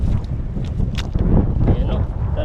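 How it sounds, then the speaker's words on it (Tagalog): Gusty wind buffets the microphone beside a river, a rough continuous rumble with soft rustling and faint water sounds, close and fairly loud throughout. "mahangin po ngayon"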